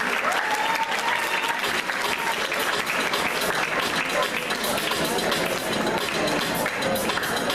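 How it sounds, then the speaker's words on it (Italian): An audience applauds dancers at a dance gala, with dense, steady clapping that fills the whole stretch at an even, loud level and never lets up. "Un grande applauso anche per voi"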